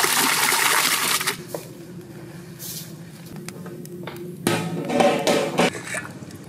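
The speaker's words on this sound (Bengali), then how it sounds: "চাল ধুয়ে দিয়ে দিলাম।" Rice is washed by hand in water during outdoor village cooking, with bursts of sloshing and pouring separated by quieter stretches, close and moderately loud.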